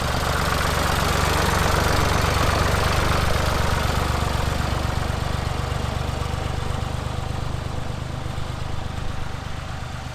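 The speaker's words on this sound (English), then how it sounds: "He's brought his tractor along with a machine that sows seeds into the ground." A tractor with a seed-sowing machine attached idles on a farm field in central Portugal, giving a loud, steady mechanical rumble with a fast knocking pulse that holds throughout and fades only slightly near the end.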